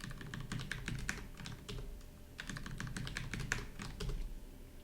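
Computer keyboard typing a password during a Ghost install on Ubuntu 20.04: steady, close clicking keystrokes in rapid bursts with brief pauses, no talk.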